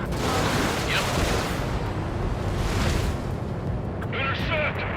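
Anti-aircraft fire in the video game Ace Combat 7: Skies Unknown, a dense, continuous roar of rapid gunfire and blasts that stays loud throughout, with brief higher whistling bursts near the end.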